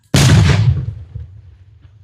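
A bomb disposal team detonates a recovered bomb in a village: one sudden, very loud blast that cuts in sharply and rumbles away over about two seconds, heard alone.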